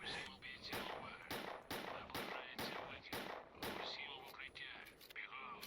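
Rapid gunshots from the video game S.T.A.L.K.E.R.: Clear Sky crack out in a steady rhythm, about a dozen shots in quick succession, loud and close, with voices murmuring underneath.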